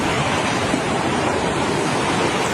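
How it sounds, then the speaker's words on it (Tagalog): Strong wind and heavy rain from Typhoon Pepito in Catanduanes, as met at an opened door: a loud, steady, unbroken roar of rushing air and downpour with no voices. "ang maingay na hangin at malakas na ulan"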